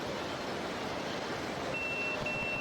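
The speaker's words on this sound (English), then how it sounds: "My page is beeping." A pager beeping in Yakuza 0 sounds as a thin, high electronic tone repeating twice, fairly faint over a steady hiss of background noise.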